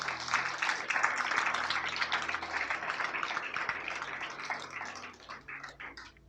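A church congregation breaks into loud, sustained clapping that swells and then slowly fades toward the end.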